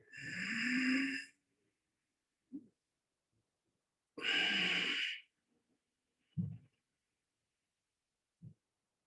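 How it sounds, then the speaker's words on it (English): A slow, deep breath drawn in and then released during a yoga session, each long airy breath standing alone in a quiet room with soft low thumps in between. "Take a deep breath and exhale."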